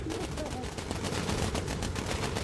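Bomber machine guns hammer away in Bomber Crew, a steady, rapid, unbroken rattle of automatic fire under a constant engine drone, loud and close throughout.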